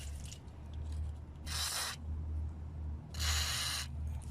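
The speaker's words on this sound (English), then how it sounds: "So I'm gonna try to put some WD-40 again." WD-40 being sprayed onto a stuck castle nut on a 2015 Toyota Corolla's front lower ball joint: two short hissing bursts from the aerosol can, close by, over a steady low hum.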